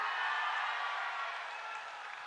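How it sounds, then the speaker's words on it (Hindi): Applause for MP Prataprao Patil at an Amit Shah rally in Nanded, a steady wash of crowd clapping at moderate distance, holding evenly throughout with no talking over it. "प्रताप राव पाटिल जी के लिए जोर से ताली बजाइए सभी लोग"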